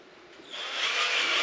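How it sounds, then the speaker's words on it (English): A wire brush spun by a power drill scours the inside of a rear trailing arm bush housing on a Mk1 Audi TT 225, a faint start that swells into a steady, bright, scratchy whir lasting about a second. "giving it a good clean on the inside with the wire brush on the drill"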